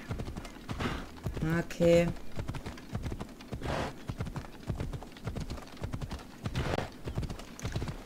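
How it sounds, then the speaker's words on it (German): Rhythmic hoofbeats of a horse galloping in the video game Assassin's Creed Odyssey, a steady clip-clop carried along under a voice talking over the gameplay. "Lauf, mein Pferdchen, lauf."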